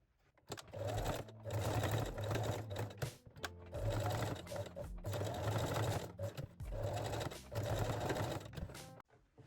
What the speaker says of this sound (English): And you can also stitch the seam allowance to the back.